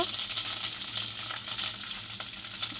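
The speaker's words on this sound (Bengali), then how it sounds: "ভালো করে নাড়াচাড়া করে এর মধ্যে আমি আদা কুচানাটা দিয়ে দেবো।" Garlic and chopped ginger fry in hot oil in a pan for a pasta gravy, giving a continuous close sizzle with faint stirring scrapes and no talk.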